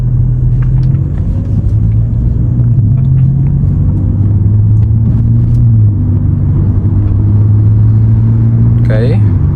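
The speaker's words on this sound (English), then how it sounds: "I want to see how the car goes through the gears" An Audi with a freshly repaired gearbox drives along in efficiency mode, its engine a steady low rumble whose pitch steps down and back up as it shifts through the gears, close and continuous with faint talk underneath.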